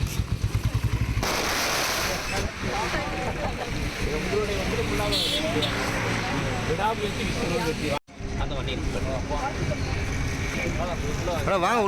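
Firecrackers burst at a school celebration of record twelfth-grade exam results in Tamil Nadu, a dense crackling roar that is loudest at the start and then continues beneath steady crowd voices and talk.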